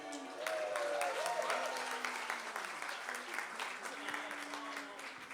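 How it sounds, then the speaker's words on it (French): A church congregation at a summer Sunday service claps for visitors from Paris, a dense ripple of applause with voices speaking faintly underneath, fairly quiet and steady. "Nicolas, tu peux applaudir quand même"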